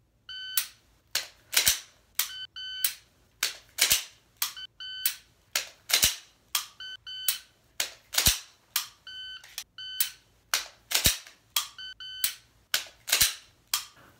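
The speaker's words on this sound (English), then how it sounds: "You'll see me in the dry fire. I will fire. I will tilt. And then I will tap rack bang." Pistol dry-fire practice: sharp, close trigger clicks and slide-racking snaps repeat in a steady cycle of short bursts, with a faint electronic beep-like timer tone between them.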